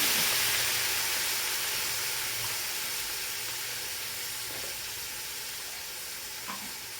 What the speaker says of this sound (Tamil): நல்லா இந்த எண்ணெயில் வணங்கணும்